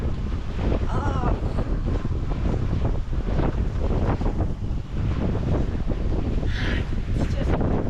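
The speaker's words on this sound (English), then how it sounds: "We have not been in a squall with this amount of wind and waves." Strong wind buffets the microphone with loud, constant roaring gusts during a squall on a sailboat on the Pacific Ocean, mixed with crashing waves and water rushing past the hull, and a brief voice sounds partway through.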